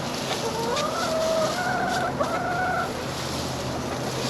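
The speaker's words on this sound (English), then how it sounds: "these chickens is going to drive me insane" Chickens cluck and call nearby in winter around a compost pile, in a continuous, slightly melodic chatter over a steady ambient hiss.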